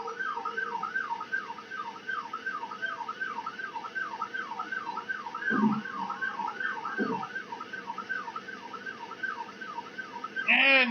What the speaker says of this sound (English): the cop behind him with sirens blowing